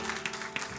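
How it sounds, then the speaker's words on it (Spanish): A church congregation applauds briefly during a Spanish-language worship service, a short burst of scattered clapping at moderate volume. "Denle ese aplauso fuerte a Cristo"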